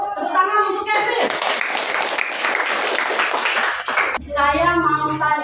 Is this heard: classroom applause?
yes